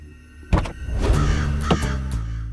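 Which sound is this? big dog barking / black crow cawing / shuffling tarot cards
black crow cawing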